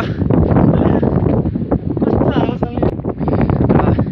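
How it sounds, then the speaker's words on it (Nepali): Steady wind buffets the microphone, a constant rumbling roar with rustling, while faint voices occasionally come through underneath. "यहाँ डरो बतास पनि लागिरहेको छ"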